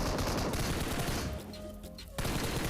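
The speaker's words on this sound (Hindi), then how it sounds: "मैं उनके ऊपर काफ़ी सारे शॉट्स लेता हूँ और मैं उनको इजीली फिनिश कर देता हूँ।" Dense automatic gunfire in the mobile battle royale game BGMI, a loud continuous burst of shots that briefly thins out before firing resumes at full intensity.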